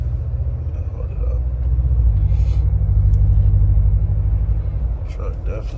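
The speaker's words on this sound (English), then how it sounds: "Truck sound good as ever, though." A deep engine rumble from a Ram 1500 pickup with a 5.7L HEMI V8, driving in the North Georgia mountains, swells and eases, heavy and low, with faint voices briefly over it.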